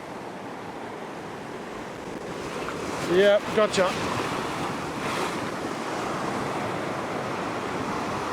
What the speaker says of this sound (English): Just going to keep my eye on any bigger waves that might want to come in.